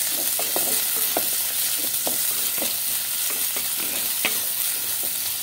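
Vegetables with green chillies and onions fry in a pan for pulusu, giving a loud, continuous hiss of oil and a regular series of stirring scrapes through the whole stretch, with no talking.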